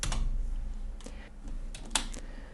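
Computer keyboard keys clicking during CAD drawing work, a few separate taps and a sharper Enter press near the end, close and fairly quiet with no talk.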